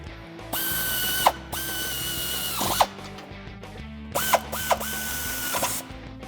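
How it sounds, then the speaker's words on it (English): A power ratchet with a 15mm socket tightens the brake caliper bolts on a 1994-2004 Ford Mustang, sounding in several loud whirring bursts with rising pitch and clicking stops, close and without talk. "now we're gonna tighten up those caliper bolts with our 15mm socket"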